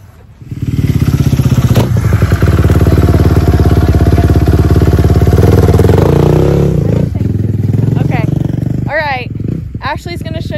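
A dirt bike engine starts and runs loudly up close, a steady rough buzzing roar, followed by a voice speaking near the end.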